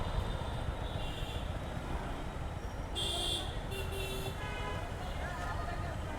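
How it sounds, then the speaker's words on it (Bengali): Jammed road traffic heard from a motorbike stuck in a long queue, a dense steady rumble of engines with several short car horn toots and honks sounding over it, and a voice talking at times. "বহু দূর পর্যন্ত জ্যাম।"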